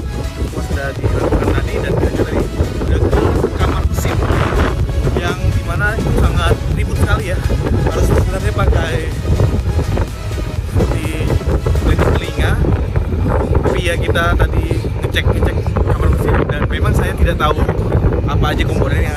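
Engine room machinery aboard the Pelni passenger ship KM Lambelu gives a loud, steady, dense roar and rumble that fills the space without pause, with a voice faintly under the din.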